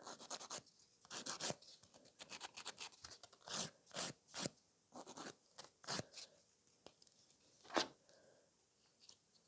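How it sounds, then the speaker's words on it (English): A file rasps an artificial nail tip into a coffin shape in a run of quick, close scratchy strokes. Some strokes come in short bursts and others are single, with brief pauses between them in a quiet room. "So I'm quickly filing another tip."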